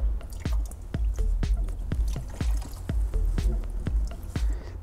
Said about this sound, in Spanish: Es importante poner debajo un recipiente para coger la gasolina que nos caiga.